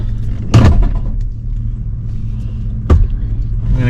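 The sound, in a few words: mini excavator engine running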